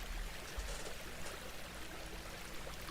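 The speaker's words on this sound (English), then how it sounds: "I don't know how I feel about the river noises." River water flows in a steady, continuous rush with broadband hiss and low rumble, evenly loud throughout with no pauses and no voices.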